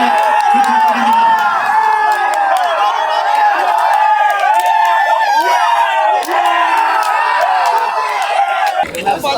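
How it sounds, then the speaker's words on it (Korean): A stadium crowd at the end of an FC Anyang football match against Chungbuk Cheongju makes a loud, steady roar of cheering and shouting. It carries on without a break for about nine seconds and cuts off abruptly at the end. "우리 선수들에게 격려의 박수를 부탁드립니다."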